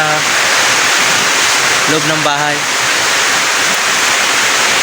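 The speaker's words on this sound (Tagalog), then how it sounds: "Sobrang lakas kasi dito ng ulan sa amin." Steady, loud rain roars as a dense wash of noise throughout, with a brief spoken phrase in the middle.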